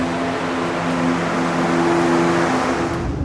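A pickup truck's engine idles steadily from inside the cab on a very cold day, giving a constant low rumble with a faint hum and no speech.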